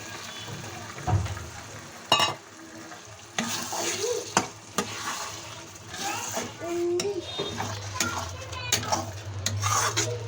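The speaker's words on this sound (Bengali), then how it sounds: "পালং শাকের গ্রেভিটাকে ভালোভাবে মশলার সঙ্গে মিলিয়ে নেড়েচেড়ে একটু ভেজে নেব" Spinach paste and masala for palak paneer are stirred and fried in a pan: a spatula scrapes and clinks repeatedly against the pan over a low sizzle, with a few knocks and bumps.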